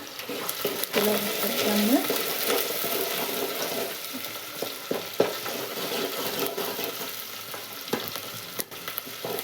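Crushed onions fry for pulao in a pan, giving a close, continuous sizzle with occasional stirring scrapes and clinks throughout.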